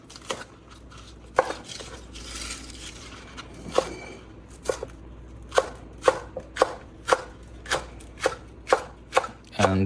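A knife chops Chinese onion, white parts and leaves, on a board in a series of crisp, separate thwacks, irregular at first and then settling into a steady rhythm, close and distinct with nobody talking.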